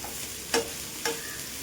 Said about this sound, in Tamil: இந்த பிச்சு போட்ட சிக்கன் கறியை போட்டுட்டு ஒரு வதக்குங்க.